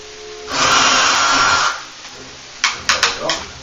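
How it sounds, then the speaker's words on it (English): A power drill whirs steadily for about a second, stops, then gives several short bursts as it enlarges a hole left by a pulled dowel rod while installing a ceiling fan, loud and close. "then I'll drill that hole out bigger."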